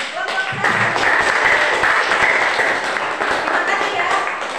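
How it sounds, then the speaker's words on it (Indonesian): Classroom of students claps for a presenting group, a loud, steady patter of hands under chatter and voices. "Ayo tepuk tangan untuk kelompok 1."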